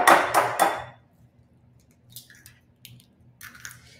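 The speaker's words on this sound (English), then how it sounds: "let's get the other two, two eggs in there" Eggs are cracked into a bowl for a chocolate chess pie, with three quick, sharp cracking knocks up front followed by faint, sparse clinks and squishy sounds over a quiet room hum.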